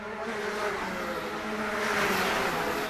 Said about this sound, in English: they're almost wheel to wheel as they come down past the start finishing line with 14 laps to run, and Macaulay Jones gets through on the insi